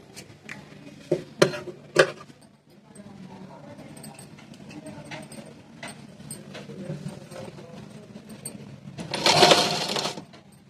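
A sewing machine stitches a folded blouse edge in short bursts, with sharp clicks and taps at first and a dense, louder whirring run near the end, all close by under quiet talk.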